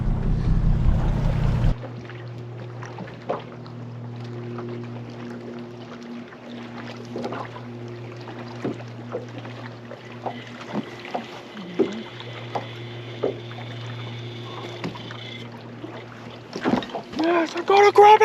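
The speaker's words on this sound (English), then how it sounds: "Your first time driving our boat that we've had for almost 2 years." A small fishing boat's motor drones steadily with low harmonic hum as it moves forward on the water, while people talk intermittently and brief knocks and splashes sound close by.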